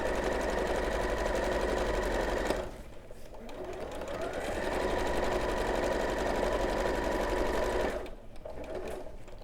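A sewing machine stitches a quilt in long continuous runs, its steady rapid motor hum broken by two short pauses, close and loud with no talk.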